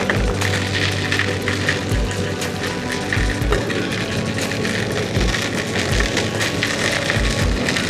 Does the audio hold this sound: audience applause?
no